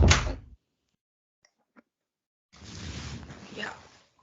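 An indoor door shuts at home, a sharp close thud at the start, followed by silence with faint clicks and then a stretch of soft rustling noise.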